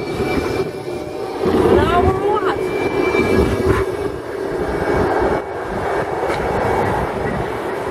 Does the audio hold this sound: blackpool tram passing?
yes